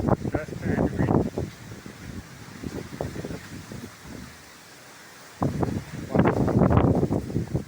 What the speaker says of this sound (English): dust and wind.